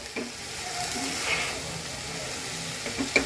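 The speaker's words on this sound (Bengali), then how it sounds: "এখন আমি এটাকে নেড়ে দেব" Mashed taka kharkon leaves sizzle and hiss as they fry in a pan, a steady, close frying noise with faint stirring touches near the end and no talking.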